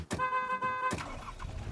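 A car horn honks in two close blasts, the second one longer, loud and nearby over low road rumble.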